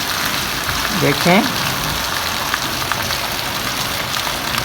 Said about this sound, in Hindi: आज सुबह सुबह देखें अल्लाह पाक ने इतनी शदीद बारिश दे दी